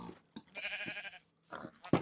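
A single drawn-out sheep bleat from Minecraft Skyblock, fairly loud and close, with brief clicks and a faint voice around it.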